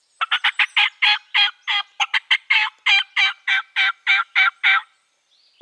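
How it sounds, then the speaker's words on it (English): A wild turkey gobbles in a long, rapid run of about twenty loud, close bursts, evenly paced and clear with no talking over it. "And I was getting them gobbling and gobbling and gobbling."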